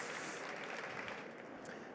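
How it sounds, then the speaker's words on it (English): An audience at a corporate transparency conference gives the panelists a round of applause, a dense even clapping that fades slightly toward the end, with no one talking. "please can you give a warm round of applause to our panelists, Gauthier Acket and Frederica Claren"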